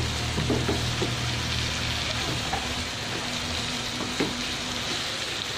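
Kofta ground meat mixed with hot sauce sizzling steadily in a pan for tacos, a continuous close frying hiss with faint occasional stirring scrapes and no talking.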